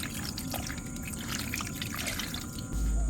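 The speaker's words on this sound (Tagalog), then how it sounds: "Dadagdagan pa po natin ng kaunting tubig." A little water is poured into a pan of coconut-milk stew with bagoong, making a soft, close trickle and splash that runs quietly for a few seconds in an otherwise calm kitchen.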